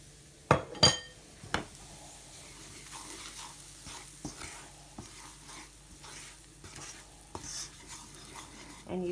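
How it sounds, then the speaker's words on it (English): A spoon stirs samosa onion filling with garlic powder in a pan, giving soft sizzling and scraping with a few sharp clinks of utensil against metal. No one speaks. "And you sort of stir it around,"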